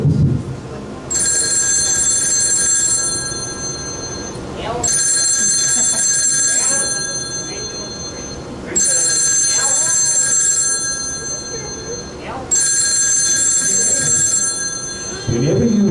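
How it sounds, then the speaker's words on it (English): A telephone bell rings loudly in four long bursts with pauses between them, at a hypnotist show for a 2013 senior party, with voices and crowd noise in the gaps. "Whenever you hear that sound tonight, you will realize that perhaps the most important phone call in your life is coming through."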